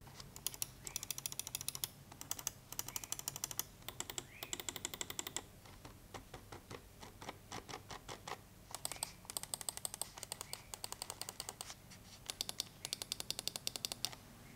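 Rapid, crisp clicks from the left and right buttons of a Corsair Sabre RGB Pro gaming mouse, pressed close up in quick repeated bursts with short gaps, sharp and dry with no voice over them.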